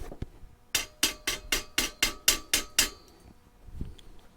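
A hammer chips slag off a fresh weld bead from a Saker handheld portable welder, giving nine sharp, evenly spaced metallic taps close up, followed by a softer knock.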